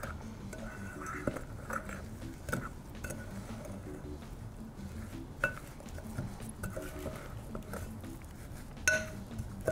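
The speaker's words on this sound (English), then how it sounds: "Now it says to use a spoon and stir it up." A spoon stirring water into a mixture in a big bowl, steady soft scraping and light clinks repeating close by, with background music underneath.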